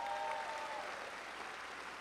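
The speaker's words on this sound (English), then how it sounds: "Give them a round of applause for that." Audience at a high school graduation ceremony applauds the graduating class, a broad, even wash of distant clapping continuing for a couple of seconds.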